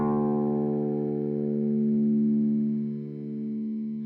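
Clean electric guitar tone, a single sustained chord or note ringing out loud and smooth with steady harmonics that slowly fades, played alone without any voices.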